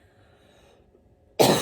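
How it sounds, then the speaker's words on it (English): A single loud, close cough bursts out at the end after near silence, from a person speaking into a tiny, sensitive microphone. "I have to cough."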